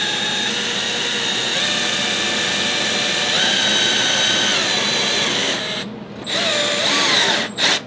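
Loud close whine of a power drill driving screws to fix hinges onto a box built from an old pallet. The whine runs continuously and dips briefly near the end as the screw seats.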